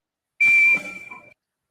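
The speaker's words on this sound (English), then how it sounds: "That's actually Oliver's whistle that we heard." Oliver's whistle sounds alone as one sharp, steady high-pitched tone, clear and close at first, then quieter and wavering before it cuts off.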